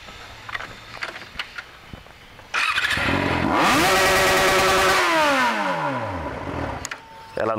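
A motorcycle engine roars to life and revs hard and loud up close, pitch climbing then falling away, after a few seconds of quiet clatter.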